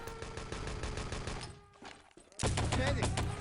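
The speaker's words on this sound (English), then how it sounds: "The Sten's so quick on the fire rate." A Sten submachine gun fires in the Enemy Territory game, with rapid bursts of shots, a brief lull, then heavier overlapping gunfire at the end, loud and close.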